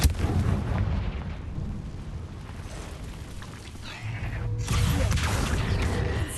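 In the video game Hogwarts Legacy, a Confringo blasting curse goes off inside a cave. There is a loud, booming blast at the start, then a rumbling tail and a second heavy burst partway through.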